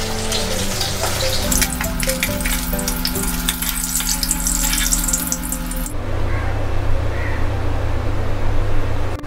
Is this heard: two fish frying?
yes